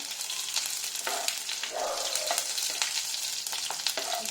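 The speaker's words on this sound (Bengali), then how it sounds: "শুকনো লঙ্কাটা যাতে মটমটে হয়ে যাবে আর রসুনটা একটু লালচে হবে।" Dry red chillies, black cumin and garlic fry in hot mustard oil, a close, lively sizzle and crackle punctuated by quick scraping stirs, with no talking.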